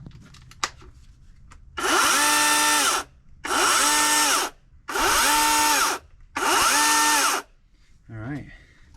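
Power tool running in four even bursts of about a second each, a steady loud whine, separated by short gaps, with faint clicks before and a brief squeal after, nearby in a quiet work area.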